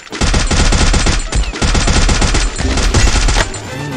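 Rapid automatic gunfire from a mobile shooter game, loud bursts of closely spaced shots rattling almost continuously, with two brief pauses between volleys.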